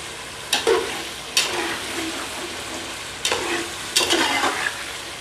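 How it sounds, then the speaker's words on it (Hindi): Chicken curry masala frying in a pot, with a continuous sizzle broken by four loud bursts of stirring and scraping, each swelling up and then fading back into the steady hiss. "देखिए माशाल्लाह माशाल्लाह कैसे भुनाई हो रही है।"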